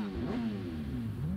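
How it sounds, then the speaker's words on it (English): A motorcycle engine in the video game Sleeping Dogs revs up and down, its pitch rising and falling in a steady mid-range drone that is moderately loud and heard alone. "Revving up the bike for no reason."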